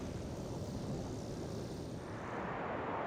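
An aircraft roars at Heathrow Airport, a loud, continuous broadband engine rumble that holds steady throughout with no voices.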